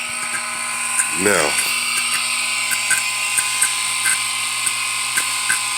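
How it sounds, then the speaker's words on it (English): A car AC compressor runs with a steady mechanical hum while faint, regular clicking ticks repeat every half second or so; someone speaks briefly over it. "You'll notice that this compressor is making like click click sounds"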